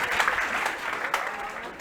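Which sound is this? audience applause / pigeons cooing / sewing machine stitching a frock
audience applause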